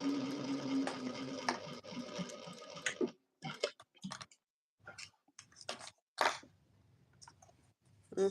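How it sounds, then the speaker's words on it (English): A sewing machine stitches across the top and bottom of fabric, running in a few short bursts broken by pauses and clicks, heard close at a moderate level. "I'm just going to stitch across the top and the bottom now"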